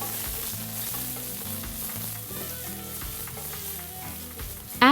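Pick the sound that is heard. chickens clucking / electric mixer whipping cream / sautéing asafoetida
sautéing asafoetida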